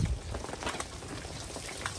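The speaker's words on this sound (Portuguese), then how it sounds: "Tá muita chuva aqui, tá muito frio." Heavy rain pouring steadily outdoors on a cold day, a dense continuous hiss with faint scattered drop impacts and no voices.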